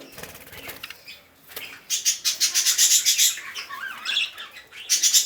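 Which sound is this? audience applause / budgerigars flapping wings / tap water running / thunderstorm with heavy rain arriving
budgerigars flapping wings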